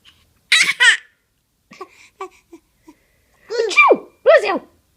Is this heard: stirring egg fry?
no